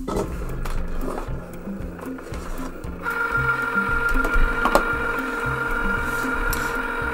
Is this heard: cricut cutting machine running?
yes